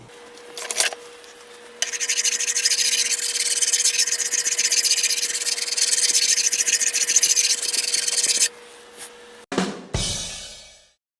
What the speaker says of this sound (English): a little tip for fret leveling on Gibsons, I like to lower the pickups so that way the file doesn't hit